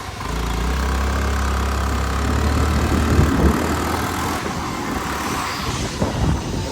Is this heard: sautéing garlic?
no